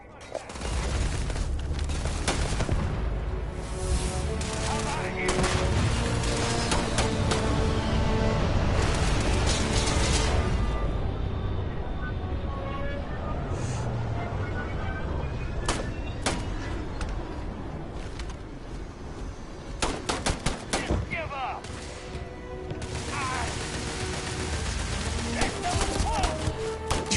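Continuous heavy gunfire and booming blasts in a space battle from the video game Starfield, loud and dense throughout with scattered sharper cracks, while voices talk over the action.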